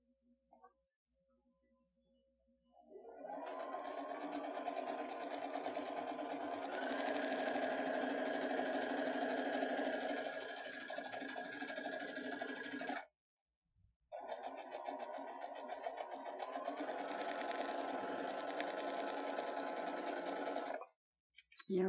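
A sewing machine runs along a marked line on a crafting project, a close, even motor hum for about ten seconds. It stops briefly and then resumes for a second long run.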